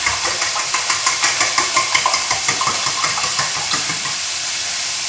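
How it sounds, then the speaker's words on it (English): Fork beating an egg mixture of eggs, milk, salt, pepper, garlic and herbs in a bowl: quick rhythmic clinks and taps repeat close by, then settle into a softer steady sound near the end. "Beating my egg mixture."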